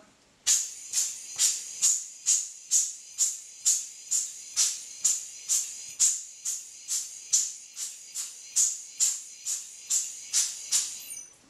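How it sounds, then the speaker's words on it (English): Short rhythmic puffs of air blow water off a Retina IIC camera rangefinder, around twenty evenly spaced hissing bursts about half a second apart, close and fairly clean. "blow off all the water and then dry with a hairdryer"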